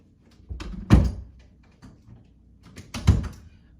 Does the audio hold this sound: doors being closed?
yes